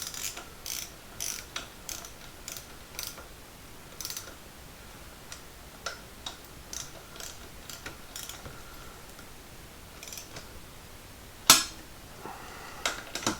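Nuts are snugged up with a ratchet wrench on a Harley-Davidson Street Glide, giving bursts of quick clicking with pauses between and one sharp metallic clack near the end.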